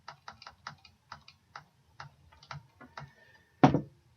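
Keys on a computer numeric keypad, the plus and minus keys, are pressed in a quick, uneven series of light, close clicks, ending in one louder tap.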